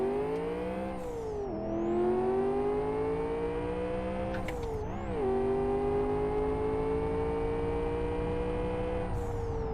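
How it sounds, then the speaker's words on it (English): A turbocharged V8 race car in the Live For Speed driving game, with an H-pattern gearbox, its raspy engine climbing steadily in pitch through the gears, with two quick drops at gear shifts. "It's got that kind of raspy V8 sound to it. There's a V8 engine in this. It's turbocharged, obviously."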